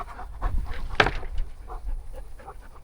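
A small dog pants in rapid, breathy bursts near the listener in a backyard, with a sharper noisy burst around the middle and quieter huffs after, no speech.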